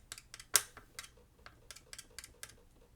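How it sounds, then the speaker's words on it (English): Small plastic ticks and clicks from a zip tie being fiddled with, a sharp snap near the start, then light irregular taps, close and quiet. "that's the sound of a zip tie thing"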